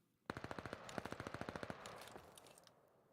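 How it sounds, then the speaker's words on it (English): Automatic gunfire in Call of Duty on the Bocage map, a fast rattling burst of about twenty sharp shots in steady rhythm, then a few scattered distant cracks fading out. "Rattle of gunfire across Bocage."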